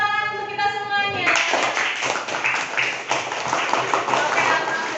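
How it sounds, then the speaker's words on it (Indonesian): An audience in a school classroom claps hands together in a steady burst of applause, following a short sung or tonal passage at the start. "Tepuk tangan untuk kita semuanya."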